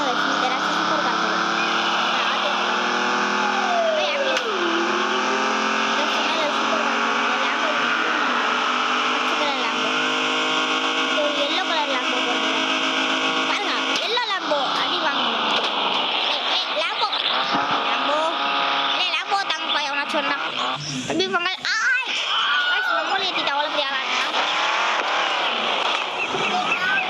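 A supercar's engine revs hard with sweeping pitch changes, then tires squeal and skid in a noisy, chaotic stretch, loud and close throughout, with a voice talking over it.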